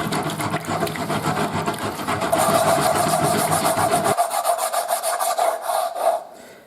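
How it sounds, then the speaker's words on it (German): An aluminium foil ball being sanded under water gives a close, steady rhythmic rasping and rubbing that runs continuously, then breaks off near the end. "Jetzt geht das Ganze unter Wasser weiter, damit das Ganze noch feiner geschliffen wird."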